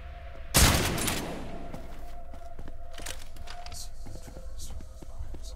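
Gunfire in the video game Trepang2, a loud sharp burst near the start that decays into scattered lighter shots and ambient game noise.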